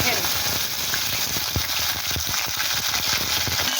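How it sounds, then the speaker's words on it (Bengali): Okra frying in hot mustard oil in a kadai, with black cumin seeds already tempered in the oil; a steady close sizzle with faint stirring clicks runs throughout. "ঢ্যাঁড়সটাকে ভালো করে তেলের সাথে ভেজে নেব"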